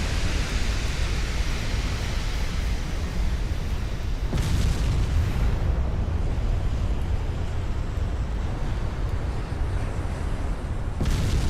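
Warship turrets blowing up in the naval battle game Ultimate Admiral: Dreadnoughts, a steady roaring rumble of distant explosions, with sharper blasts standing out at around four and eleven seconds.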